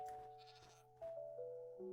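Sheep in Minecraft bleating in a couple of wavering, nasal calls, close and clear against a quiet background.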